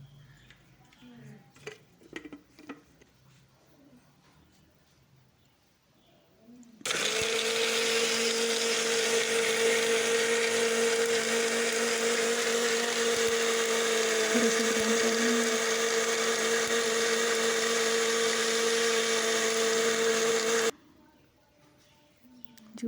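Kitchen blender grinding pomegranate seeds with sugar and a spoon of honey for juice, a loud steady whirring motor running for about fourteen seconds, after quieter handling clatter and before it stops abruptly.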